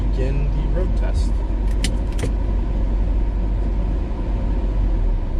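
A Corvette on a road test, its engine and road noise forming a steady, loud rumble throughout, with a brief metallic jangle partway through.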